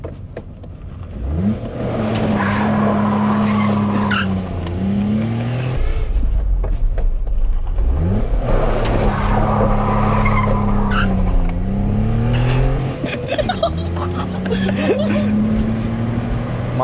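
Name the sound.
1.2L VW Polo driven hard, tyres skidding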